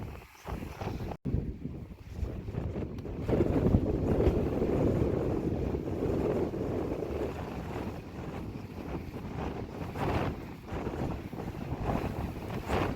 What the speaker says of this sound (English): The wind is a little rough.